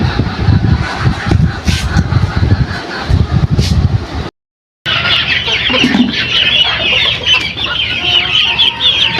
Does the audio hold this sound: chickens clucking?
yes